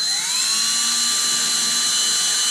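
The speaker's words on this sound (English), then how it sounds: "line up the rotor broach in the center of the plug" A rotor broach drilling into a wooden plug in a wooden boat's planking, a loud, steady high-pitched whine that rises briefly in pitch at the start and then holds constant, close up with no talk.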